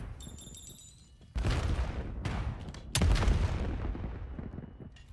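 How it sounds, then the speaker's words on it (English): In a Call of Duty League esports match, a grenade blast lands with a sudden heavy boom after a quiet electronic beeping start, followed by a second loud thump and a long rumbling decay. "Nice nade from Neptune."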